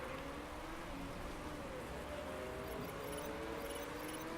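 Steady hiss of rain in the Motorsport Manager racing game, a dense even wash across the whole stretch with faint engine tones weaving underneath, low and continuous.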